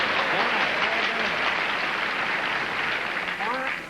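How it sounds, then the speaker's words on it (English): Studio audience applause on a 1977 television game show, a loud, steady wash of clapping that fills the whole stretch, with voices talking over it. "Hurts me to hear him applaud."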